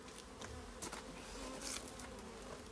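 Honeybees buzz thickly around the outside of a hive, a continuous close drone with individual bees zipping past the microphone, alone without voices.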